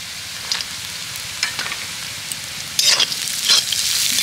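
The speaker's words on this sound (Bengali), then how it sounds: "এবার আমি ভালো করে নাড়াচাড়া করে ভেজে নেব" Peanuts with salt, a pinch of sugar and spices are fried in a pan over a low sizzle, broken by several scraping stirs of a spatula that grow louder toward the end; no one speaks.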